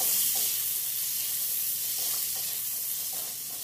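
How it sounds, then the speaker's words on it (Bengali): Amla being stirred in a pan with turmeric and Kashmiri chilli powder, a steady soft sizzle with faint scraping stir strokes running throughout, close and moderately quiet, no talking. "এবার হলুদ গুঁড়ো আর লঙ্কার গুঁড়োকে খুব ভালো করে আমলকির সঙ্গে মিশিয়ে নিতে হবে।"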